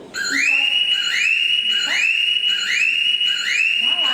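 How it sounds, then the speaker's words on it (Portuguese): A loud electronic fire alarm repeats rising whoops about every second and a half, piercing and close, with no talking over it. "Acionou aqui na unidade. Alarme de incêndio."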